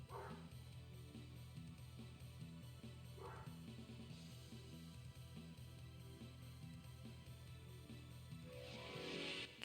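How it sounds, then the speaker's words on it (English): A dog barks a few times in short separate bursts in the background, over a steady hum and music from a gaming session. "Sorry about the barking, guys."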